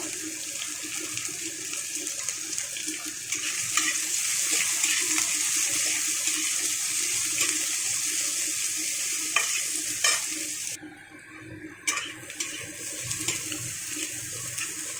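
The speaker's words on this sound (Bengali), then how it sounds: "পেঁয়াজটাকেও আমি হালকা করে একটু ভেজে নেব" Sliced onions fry lightly in oil in a pan, a steady, close sizzling hiss broken by occasional stirring scrapes. A brief drop near the end is followed by the sizzle resuming.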